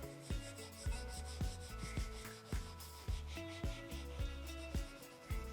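A scour pad with Multi-Star cleaner scrubs corroded chrome on a Toyota Land Cruiser 60 Series, giving close, steady rubbing strokes in a regular back-and-forth rhythm, each pass marked by a scraping rasp, with no talking.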